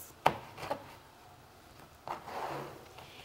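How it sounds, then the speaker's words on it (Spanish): A knife strikes a cutting board while pork is cut into moderate bite-sized chunks, a few sharp separated chops spread out with quiet gaps between them. "Y la carne de cerdo la vamos a trocear."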